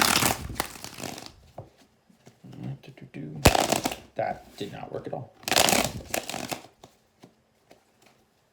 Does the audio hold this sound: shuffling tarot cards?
yes